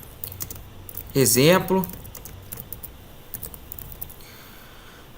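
Fast keyboard typing on a computer while a name is entered into trading-robot software, a dense burst of clicking keystrokes for about a second, followed by scattered lighter clicks, with someone speaking briefly.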